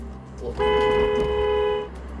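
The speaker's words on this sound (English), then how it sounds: "It was the sound of Zach's car horn that alerted the other driver" A car horn blares in one sustained steady honk lasting over a second, loud and close, over low road rumble.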